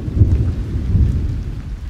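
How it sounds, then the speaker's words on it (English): Rain and rumbling thunder fill a Roblox game scene, a steady loud wash of heavy rainfall with deep low rolling booms underneath, close and continuous with no voices. "It's raining!"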